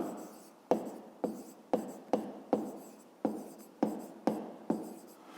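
Pen strokes on paper during a fifth-grade maths exercise, about a dozen sharp scratchy strokes in a steady rhythm, each starting crisply and fading, close and clear with no voice over them.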